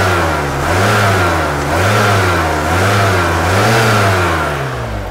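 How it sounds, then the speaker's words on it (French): A Volkswagen Corrado G60 engine revs up repeatedly from a good idle, loud and close, its pitch rising and falling in several smooth swells with no talking over it. "Quand j'accélère, il y a une bonne réponse."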